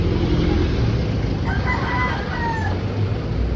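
A rooster crows once at a moderate distance over a constant low rumble of background noise.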